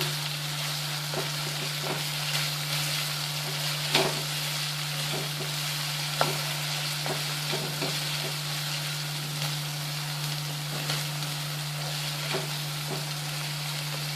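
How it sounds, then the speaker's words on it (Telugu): Chicken with ginger garlic paste frying in a pan, a continuous close sizzle broken by a series of scraping stirs at irregular intervals over a steady hum. "అల్లం వెల్లుల్లి పేస్ట్ కొంచెం దోరగా వేగిన తర్వాత వేగితే మంచి టేస్ట్ వస్తుంది మసాలా."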